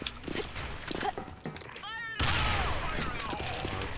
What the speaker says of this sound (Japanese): 空爆してるのか。